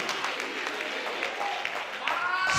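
Church congregation at a holy convocation service clapping and cheering, a dense wash of applause with scattered shouts and voices mixed throughout, steady and fairly loud.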